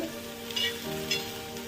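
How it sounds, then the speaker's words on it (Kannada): Okra sizzles steadily in a hot pan, a soft continuous frying hiss with a couple of brief stirring scrapes, heard up close with no talking. "ನಾನು ಒಂದು ಚಿಕ್ಕ ಬೆಂಡೆಕಾಯಿ ಹುರ್ಕೊಂತೇನೆ ರೀ"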